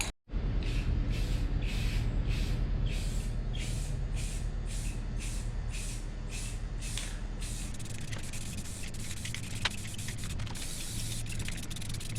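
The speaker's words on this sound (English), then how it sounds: "So let that one dry and I'm going to try to spray these other ones." Repeated short hissing bursts of spray paint on 1997 Jeep Wrangler wheels in a steady rhythm, then a longer continuous spray, close and fairly loud.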